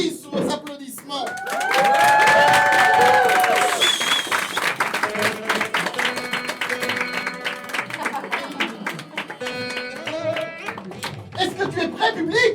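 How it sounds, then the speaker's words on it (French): An audience at an improv show breaks into loud applause and cheering that swells over a music cue, then thins into scattered clapping and chatter across about twelve seconds. "Les double C sous vos applaudissements."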